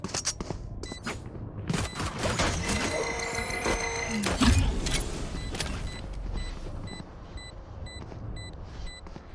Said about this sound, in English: I'm gonna shoot right here